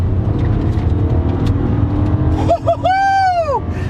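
A Toyota Aurion Sportivo engine roars loudly and steadily as it accelerates hard, then a rising siren-like whoop sweeps up and down near the end.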